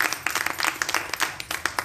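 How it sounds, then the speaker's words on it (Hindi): Rhythmic clapping by women at a protest by Anganwadi workers in Uttarakhand, a brisk run of close, sharp claps in a steady beat. "ताली बजाओ दीदी"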